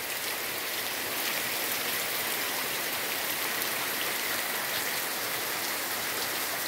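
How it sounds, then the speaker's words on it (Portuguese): Steady rain falls throughout in Itabaiana on the first of June, a dense, even hiss of drops on surfaces with no let-up and no other sounds. "Mês de junho, começou com chuva."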